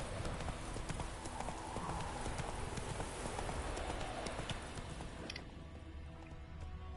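Roach the horse from The Witcher 3 gallops in a steady, dense rush of clip-clopping hoofbeats that runs unbroken for the whole stretch, loud and close, thinning slightly near the end.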